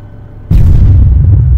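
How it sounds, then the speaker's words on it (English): A high-explosive shell bursts in the military shooter Arma 3, with an AAF reinforcements pack loaded. It is a sudden, close and loud boom that turns into a heavy, sustained low rumble. "if you look at that explosion there, much better"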